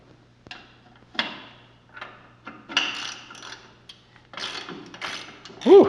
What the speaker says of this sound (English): this is a fine tooth ratchet, which is much better than my old ratchet